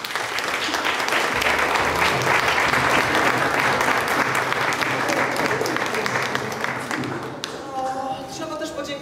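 An audience at a photography exhibition opening in Bydgoszcz applauds the photographers, a loud, dense clapping that runs steadily for most of the clip before thinning out at the end.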